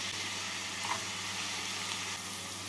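Potato, carrot, cauliflower and beans fry in a pan for a vegetable polao, giving a steady, even hiss and crackle of oil, close and continuous with no voices.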